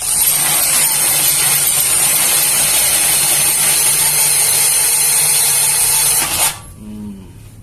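Kamolee 10mm cordless brushless drill running free at high speed, a loud, steady, whining motor drone lasting about six seconds before it cuts off and spins down, heard close and alone.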